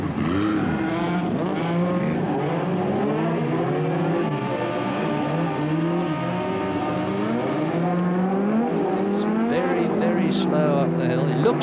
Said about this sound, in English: Gibson still in 3rd place in the Porsche.